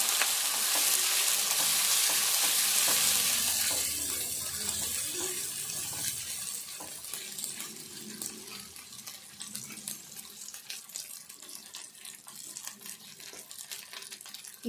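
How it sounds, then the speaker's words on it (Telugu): Ginger garlic paste fries in oil, starting with a loud, bright hiss that settles into a quieter, crackling sizzle with scattered pops and occasional stirring scrapes, close up and with no voices. "ఇప్పుడు కొంచెం అల్లము వెల్లుల్లి పేస్ట్ వేసుకోవాలి. ఇది కూడా పచ్చివాసన వేయదాకా వేగాలి."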